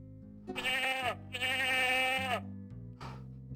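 Two long, loud, quavering sheep bleats from the 1993 PC adventure game Freddy Pharkas: Frontier Pharmacist, the first short and the second drawn out, followed by a fainter bleat with no one talking.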